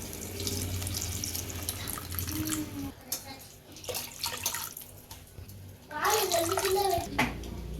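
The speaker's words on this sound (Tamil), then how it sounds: "இப்போ நான் புளியை கரைச்சி வச்சுருக்கேன் அந்த தண்ணியை சேர்த்துப்போம்" Tamarind water is poured into a pan for rasam, a running liquid splash heard in bursts amid kitchen clatter and a brief tonal sound, with no clear talking.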